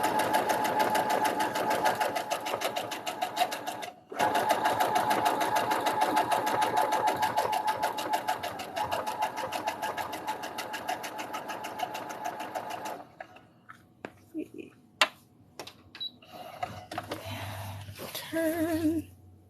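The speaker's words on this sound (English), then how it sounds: "I'm sewing" A sewing machine stitches a hoodie in one long fast steady run that stops briefly and resumes, then halts near the end, leaving a few clicks, handling noises and a short burst of talk.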